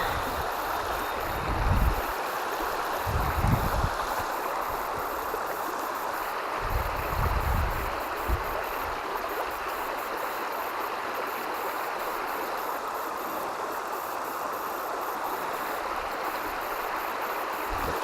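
Water flows steadily around someone wading in a stream, a continuous broad rushing with a few low thumps and splashes early on and no talk.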